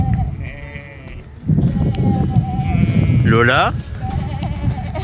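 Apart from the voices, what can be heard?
sheep bleating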